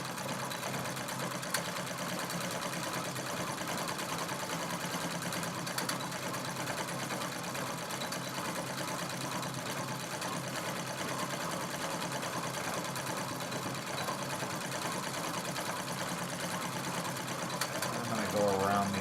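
A sewing machine stitches quilting around trillium petals, a steady close rapid whir running without pause, with a voice speaking over it at times.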